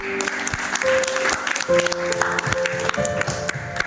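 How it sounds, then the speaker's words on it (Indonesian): An audience at a vocational school gathering claps for a few seconds, uneven and somewhat sparse, with tonal music or voices mixed underneath. "Oke, tepuk tangan buat kita."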